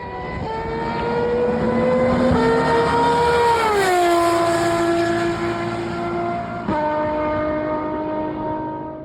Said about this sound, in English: By the way, the Valkyrie sounds amazing.